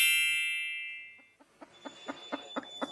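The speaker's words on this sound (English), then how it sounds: "What farm animal makes this sound? Wait, let's hear carefully. A chicken!" After a ringing chime fades out, a farm chicken clucks in a steady run of about seven short, evenly spaced clucks, clear and fairly close.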